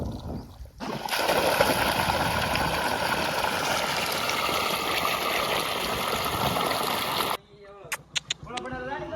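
Irrigation water pours and rushes steadily through a farm field channel, a loud continuous close flow that starts abruptly and cuts off, followed by someone speaking.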